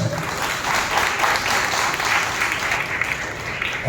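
Loud, sustained clapping from a congregation during a Sunday church service, dense and even for the whole stretch with faint voices beneath.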